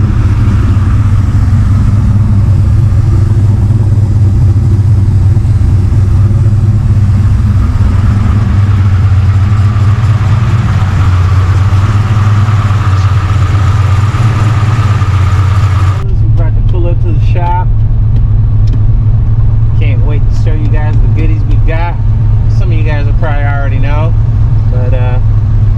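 A Ford Foxbody coupe built toward 1000 horsepower cruising on the road, its engine a loud, steady, deep drone that shifts character partway through, with voices faintly under the noise.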